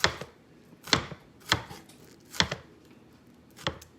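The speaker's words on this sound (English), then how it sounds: "all I'm doing is I'm just chopping these up into small little bits" A knife chops ingredients into small bits on a board while making trash can nachos, giving five or six crisp, separate thumps at an uneven, unhurried pace, close and clear with no talk.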